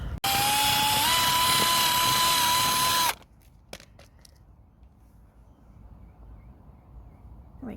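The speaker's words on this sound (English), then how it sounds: "I'm gonna have to try and bore that hole out a little bit more with this drill bit" A power drill whirs loudly at a steady high pitch for about three seconds while a drill bit bores out a hole, then stops, leaving a quiet room with a few faint clicks.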